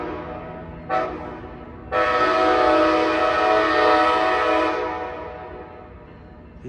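Loud horn blast from a Siemens SC44 Charger locomotive leading an Amtrak San Joaquin train into Jack London Square station in Oakland, preceded by a short toot, over a constant diesel rumble.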